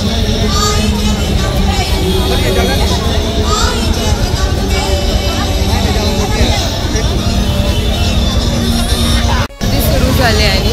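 A thick, loud hubbub of many people at a Navratri festival gathering runs unbroken, voices overlapping near and far with a low rumble beneath, interrupted once by a brief dropout near the end.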